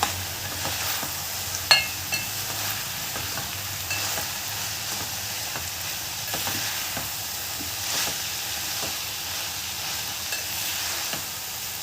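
Andhra-style curry with turmeric fries in a pan under a constant close sizzle, while a utensil stirs and scrapes it in irregular strokes, with one sharp clink near the start.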